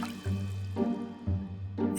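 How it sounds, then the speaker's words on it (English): A lump of bread dough drops into a pail of water in a bakery, giving a few soft watery plops and drips over a low musical drone. "It fell, twisting itself as it dropped down and plopped into a pail of water."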